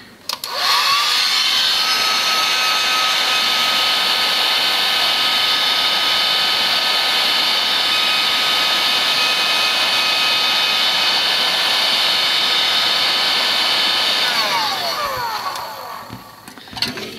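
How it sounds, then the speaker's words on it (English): A heat gun of the kind used for stripping paint blows hot air over an ECU circuit board, a loud steady whooshing roar held for about fifteen seconds before winding down, with no talk. "warm the whole area with the heat gun. Just use your normal heat gun that people use for stripping paint"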